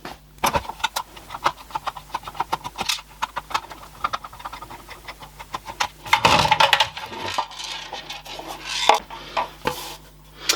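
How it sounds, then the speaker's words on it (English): Screws are worked out of a lead acid battery's plastic housing, producing a run of small metallic clicks, ticks and rattles with scraping and handling noise, close up and irregular. "Let's unscrew some of this."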